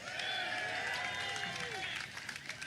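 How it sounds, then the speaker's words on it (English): A crowd at a ribbon cutting for the world's largest Buc-ee's cheers and claps, a loud swell of applause and whoops that fades out after about two seconds. "Another cheer for Buc-ee's."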